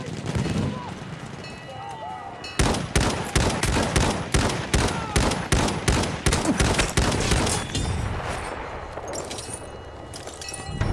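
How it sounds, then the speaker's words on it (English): Enemy machine gun fire in the Battlefield 1 video game, long rapid bursts of loud, close shots hammering for several seconds, with voices talking under and around the firing. "There's an enemy machine gun!"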